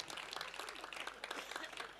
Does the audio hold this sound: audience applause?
yes